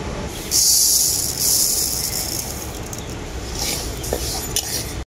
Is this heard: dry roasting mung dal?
yes